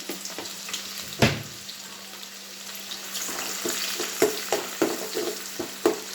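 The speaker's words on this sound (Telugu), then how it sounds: "ఆనియన్స్ వేసేటప్పుడు మనం వేయించుకునేటప్పుడే చాలా జాగ్రత్తగా వేయించుకోవాలి" Onions frying in a pan for bagara rice, a soft crackling sizzle broken by several sharp spatula scrapes and taps, closer and busier toward the end, with a faint steady hum beneath.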